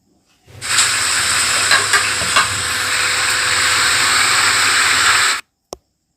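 Chicken and potatoes being stirred together in a hot cooking pan, a loud steady sizzle and hiss running nearly five seconds with a few scraping knocks, then stopping abruptly before one last faint tap.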